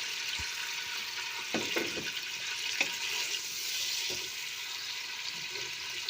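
Sliced onions hit about 150 grams of hot oil for chana pulao, setting off a steady broad sizzle with a few soft knocks early on, close and continuous without any voice.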